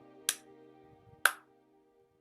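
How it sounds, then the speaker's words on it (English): A man claps slowly as he comes down a hallway, with three sharp, evenly spaced single claps. Each has a short echoing tail over a quiet, low hum. "You can hear him clapping down the hallway."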